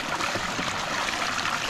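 Outdoor shower water in a Kenyan village, a steady close trickling and splashing stream that stays even and continuous with no voices.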